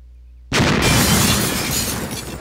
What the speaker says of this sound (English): We're going to throw a grenade